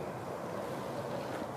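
FINN BB302 bark blower engine running steadily with a broad, constant roar that swells slightly as its RPM increases, close and loud with no talk over it.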